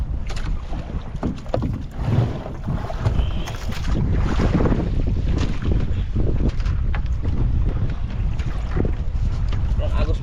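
A river current flows steadily with a dense, rushing wash and wind buffeting the microphone, loud throughout, with a voice speaking over it.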